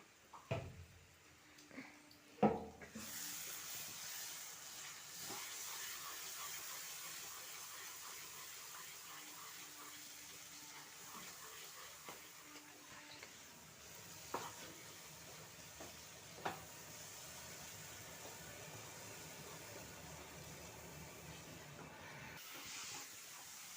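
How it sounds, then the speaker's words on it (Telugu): Masala spice mix sizzling as it fries in a pan for a homemade curry: a steady, soft hiss that lasts throughout, with a few brief clinks and scrapes from stirring and no talking. "మసాలా బాగా వేగింది మంచి వాసన వస్తుంది"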